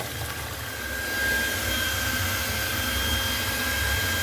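A steady mechanical hum with a faint high whine as an automatic water pump switches on and runs continuously at moderate volume, with no voices.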